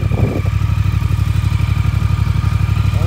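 A Triumph Speed Twin motorcycle rumbles close by in first gear, its even, throbbing exhaust pulses loud and continuous as it gets under way.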